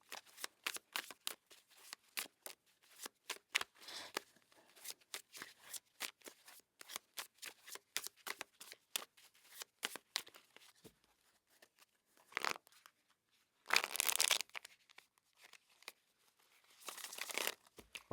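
Tarot card deck being shuffled and cut by hand, many quick close riffles and taps at a faint level, then a few short louder bursts of card handling separated by quiet gaps.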